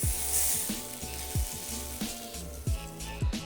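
Food grilling in a pan with a pinch of oil for a Korean dinner, a close, continuous sizzle with repeated scraping and flipping strokes at an uneven rhythm, no speech.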